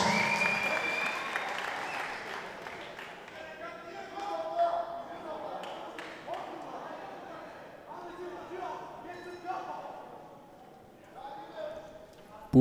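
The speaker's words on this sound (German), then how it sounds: "Publikum lebt, Publikum ist da." A boxing crowd at the Vienna Boxing Championship applauds in a steady patter of clapping, fairly faint and continuous, under a commentator's voice.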